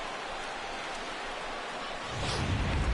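Rain falls steadily in a baseball video game, a broad even hiss that swells louder and heavier in the last second.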